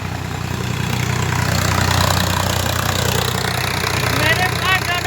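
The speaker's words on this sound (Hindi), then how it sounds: "ये यहाँ पे ट्रैक्टर चल रहा है।" A tractor engine runs steadily at idle nearby, a low continuous throbbing drone with faint background sounds over it.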